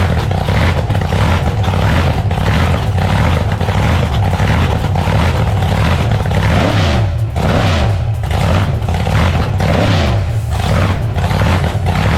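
A street-legal car with a changed exhaust and new rear tyres revs loudly at a motorsport festival. A deep, continuous roar rises and falls close by, with no talk over it.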